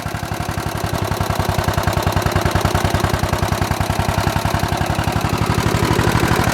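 A small engine idles steadily after its fuel strainer has been cleaned, with a fast, even chugging putter and light mechanical clatter, close and loud, with no talking.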